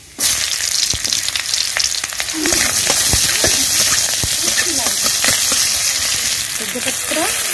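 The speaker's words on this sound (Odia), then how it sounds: "ତେଲ ପକାଇବା, ପ୍ରଥମେ ଶୁଖିଲା ଲଙ୍କା ପକାଇବା।" Dried red chillies and panch phoron spices crackling in hot oil for an Odia dahi kadi with okra, a loud close sizzle that bursts in after a quiet start, with sharp pops spattering throughout.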